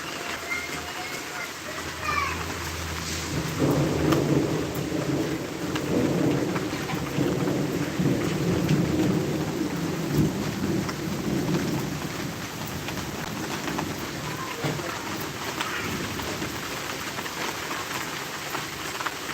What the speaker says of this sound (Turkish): Ama hala dolu yağıyor.